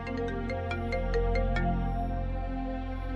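A mobile phone ringtone plays a bright, repeating melodic pattern of quick tones over a sustained background, steady and clear with no voices.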